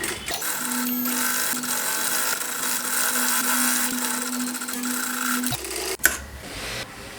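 A sewing machine runs a steady, fast stitch close up along blouse fabric to catch excess material, a continuous whirring hum that stops abruptly near the end, followed by a sharp clack.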